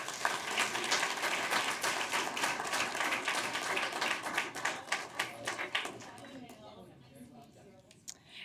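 Audience applause for teachers at a Pinellas County school board meeting: dense, sustained clapping from a roomful of people that thins into scattered claps near the end, with voices underneath.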